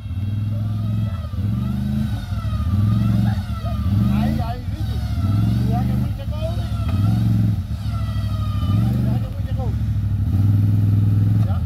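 A Can-Am off-road vehicle's engine revs and surges loud and near while mudding, its pitch rising and falling in repeated waves as people talk over it.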